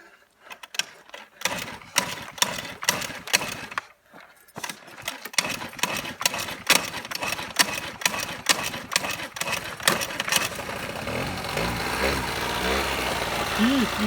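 A scooter engine running on methanol idles while warming up, first with uneven popping pulses and then settling into a steady, buzzing chug; close by, with some talk around it.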